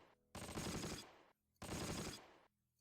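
Two loud bursts of automatic gunfire, each about a second long and separated by a short silence, as soldiers are shot at on Sword Beach in the WWII strategy game Close Combat: The Longest Day.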